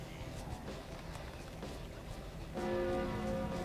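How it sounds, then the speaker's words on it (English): A bell tolls in the video game Overlord, a sustained ringing tone that starts partway through and rings out over a steady background of game noise. "every time that bell rings is when they're sending more after you"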